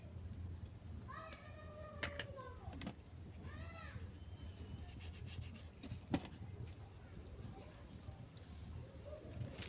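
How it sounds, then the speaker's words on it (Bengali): Salt and turmeric rubbed by hand into pieces of katla fish, a soft steady rubbing close by, with a few cat meows and a faint background hum. "এরপর কাতলা মাছের মধ্যে মেখে নেব লবণ,"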